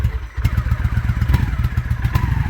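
A 2003 Honda Shadow motorcycle engine idling nearby, a steady low throbbing rumble with a regular pulsing beat and light mechanical clatter throughout.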